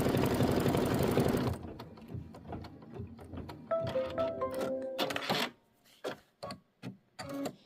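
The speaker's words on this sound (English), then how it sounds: "And now it wants to stitch the straw fill 1." An embroidery sewing machine stitches a quilt block for a mini quilt, its dense mechanical whir loud for about a second and a half before stopping, followed by softer clicks, beeps and handling noises.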